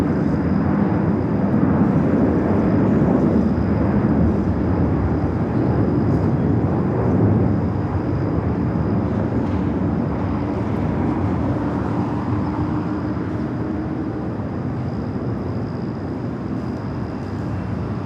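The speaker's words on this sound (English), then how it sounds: "A350 1000, the flight heading back to London Heathrow, flight 8, rolling down at 24 left" A Virgin Atlantic Airbus A350-1000 on its takeoff roll on runway 24 left at LAX at night, giving a sustained, loud jet engine rumble that eases slightly as it goes.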